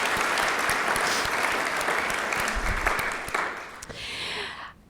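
An audience at an evening oration breaks into clapping, a dense, loud burst of many hands that holds steady for a few seconds, then thins out and fades.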